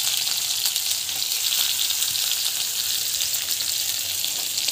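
Green chilli and onion fry steadily in hot oil, a constant close sizzle with no talking over it.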